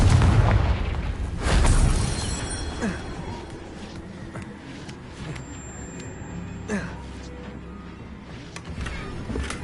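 In the Hogwarts Legacy video game, a Confringo spell explosion gives a heavy boom, followed by scattered bursts, pops and crackling game effects.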